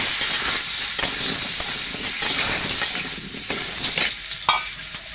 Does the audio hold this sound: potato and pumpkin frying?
yes